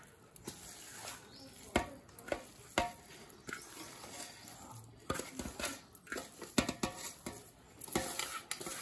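Hyderabadi mango pickle with ginger and garlic is mixed by hand in a container, producing irregular wet squelches, scrapes and sharp clinks at close range with brief pauses between strokes.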